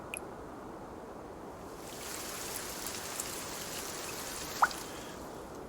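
Soft, steady patter of rain falling in the video game Cloud Gardens, an even, gentle wash of drips with one faint brief click near the end.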